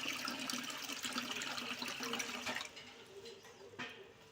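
Water pours steadily over soaking finger millet in a container for a couple of seconds, then tapers to lighter trickles and splashes.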